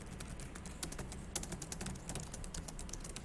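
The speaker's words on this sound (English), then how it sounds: "And I'll start typing." Fast typing on a computer keyboard during image editing, with dense, crisp keystrokes in uneven bursts, close and moderately loud, without speech.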